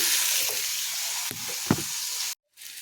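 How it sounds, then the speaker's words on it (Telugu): Steady hiss of bitter gourd frying in a pan, with a few brief stirring scrapes and a short drop to near silence toward the end. "కాకరకాయ ఇలా వేగింది కదండి"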